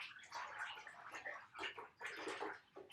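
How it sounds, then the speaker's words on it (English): Blue jean cotton paper pulp stirred by hand in a tub of water, soft close sloshing and swishing in uneven surges, with no talking. "Okay, I'm going to stir this up."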